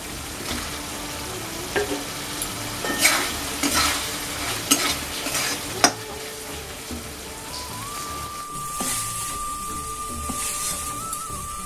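Fried potatoes are stirred into a sizzling spice masala for a Bengali fish tok jhal, with steady frying crackle and repeated spoon-and-pan scrapes and clinks up close.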